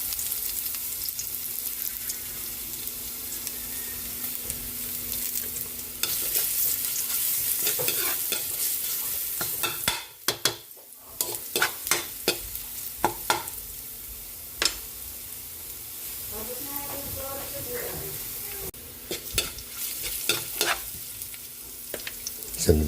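Garlic frying in a hot pan gives a steady close sizzle, with a run of sharp scraping stirs in the middle and a brief dip before the frying picks up again. No one speaks.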